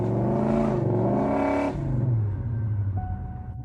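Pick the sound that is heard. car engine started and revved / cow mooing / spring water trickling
car engine started and revved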